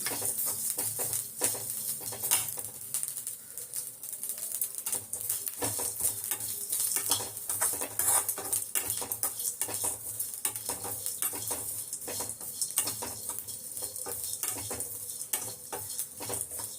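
Grated coconut stirred and roasted in a pan, with continuous close scraping and clattering of a spoon against metal over a faint sizzle, uneven in rhythm, with no talk.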